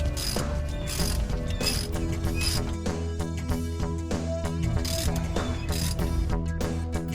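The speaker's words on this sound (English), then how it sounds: "just put in the two long bolts and tighten them up real well" A hand ratchet clicks in rapid, steady runs while tightening the long starter mounting bolts on a 2002 Chevy Avalanche with a 5.3L Vortec, close and crisp with brief pauses between strokes.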